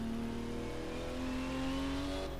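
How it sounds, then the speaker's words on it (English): A Porsche 935 L1 race car at the 1980 airfield circuit race in Mainz-Finthen downshifts into the first corner, its engine note loud, near and continuous, changing pitch with no speech. "the lone Porsche 935 L1, heading down to the first corner, downshifting"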